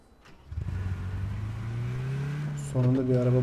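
A car engine in PUBG starts up and settles into a steady hum, then revs to a louder, higher pitch near the end, with faint speech underneath.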